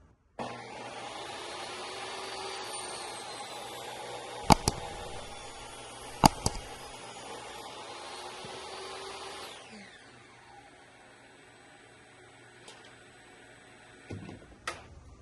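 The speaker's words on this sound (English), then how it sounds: "Switch my dust collection over." Workshop dust collection system running as a steady whining drone with a few sharp clicks, then spinning down and going quiet near the end.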